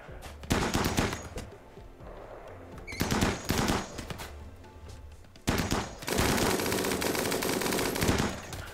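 Bursts of automatic gunfire from the RimWorld video game, several separate volleys of rapid shots with brief pauses between them, the last burst long and sustained; loud and close, with no talking.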